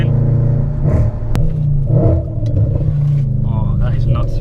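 Tuned Audi RS5 engine rumbling loud and close, with low revving and sharp crackling pops from the exhaust, while people talk over it.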